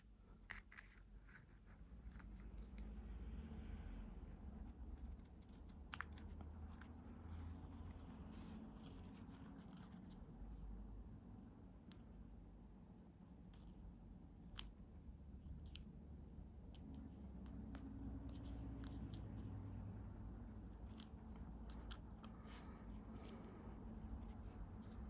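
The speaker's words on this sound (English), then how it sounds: "I'm going to use scissors and I'm going to cut these 2 pieces off." Scissors snip pieces off a Moomin House model kit, giving sparse, faint clicks and small cuts scattered over a quiet, steady background.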